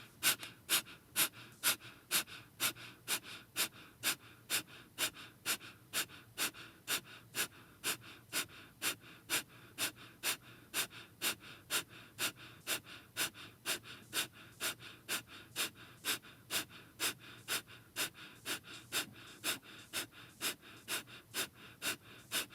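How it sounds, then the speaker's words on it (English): Sharp yogic breath-of-fire exhales are pushed out through sealed lips in a steady, rapid rhythm of about two per second, close and quiet, continuing for over twenty seconds without speech. "exhaling everything out the mouth, seal the lips, and then sharp exhales."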